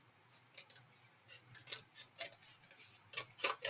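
Scissors snip through folded paper for an envelope gusset, a run of short crisp cuts in uneven rhythm, close and fairly quiet with no talking.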